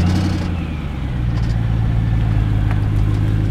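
A BMW M3 idles at a street car show held for charity, its steady low engine drone holding close and even throughout with no revving.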